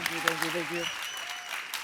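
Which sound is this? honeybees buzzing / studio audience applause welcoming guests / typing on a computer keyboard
studio audience applause welcoming guests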